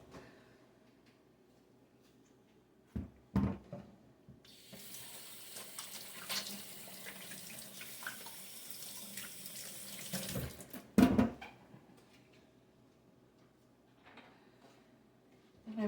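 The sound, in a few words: washing hands under running tap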